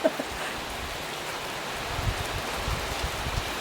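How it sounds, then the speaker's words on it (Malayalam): Heavy rain pours down in a rural village, a steady, even hiss of water falling continuously with no voices. "ഇത് ഞങ്ങൾ വീഡിയോ എടുത്തോണ്ടിരിക്കുമ്പോൾ നല്ല മഴ"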